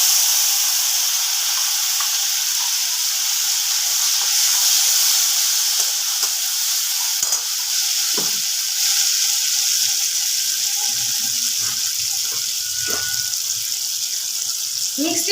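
A paste of ginger, tomato, green chilli and cashew hits hot oil, setting off a loud, steady hissing sizzle that holds throughout, with a few clinks and scraping sounds near the end.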